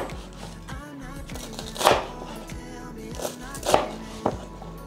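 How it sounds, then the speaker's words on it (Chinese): A knife chops fried cake into pieces on a board, giving a few soft, close thuds at irregular intervals beneath background music. "把炸饼切成块状"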